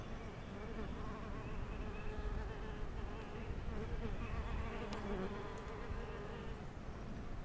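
Dense, steady buzzing of many Japanese horn-faced mason bees flying close by as they return from foraging, a continuous hum with no voices.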